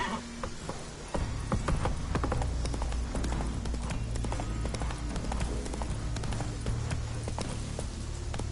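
Steady clip-clop of a horse galloping in The Witcher 3: Wild Hunt, hoofbeats continuous and close throughout, carrying over a low rumbling background with no talk.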